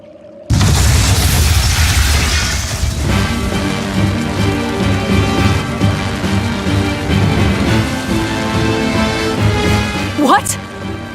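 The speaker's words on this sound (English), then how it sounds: "Those will explode." Flamestone stores explode in the video game Tales of Berseria: a sudden loud blast gives way to a heavy, sustained roaring rumble lasting several seconds, ending with a brief rising whoosh.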